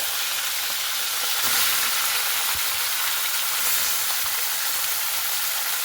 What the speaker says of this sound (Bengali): ওই তেলের আলু ভাজা তেলে কিন্তু আমি চিকেনগুলোকে দিয়ে দিচ্ছি